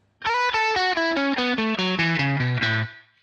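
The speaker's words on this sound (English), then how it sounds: "So if I descend the major pentatonic scale," A distorted electric guitar plays a descending major pentatonic scale, about a dozen evenly spaced notes stepping down in pitch, loud and clear with no talking.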